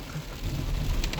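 Rain drums steadily on a moving car on a wet commute, a broad even hiss over low engine and road rumble, brief and close, no one speaking.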